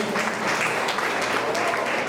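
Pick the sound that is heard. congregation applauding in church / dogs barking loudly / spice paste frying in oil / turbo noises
congregation applauding in church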